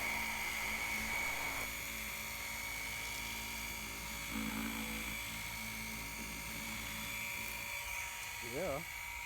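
A small cordless 5-in-1 electric sander, a WORX 20V Sandeck, buzzes steadily with a high whine on wood, close by, while a person speaks quietly over it.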